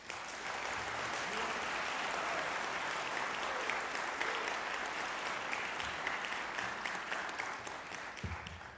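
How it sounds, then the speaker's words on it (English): Audience at a high school band winter concert giving the student musicians a big round of applause, a sustained, even wash of many hands clapping that holds steady before tapering slightly at the end. "a big round of applause for all the students"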